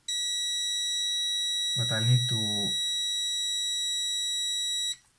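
A steady electronic beep tone rings unbroken for about five seconds while a Polaroid SX-70 camera is being restored, with someone speaking briefly over the middle of it.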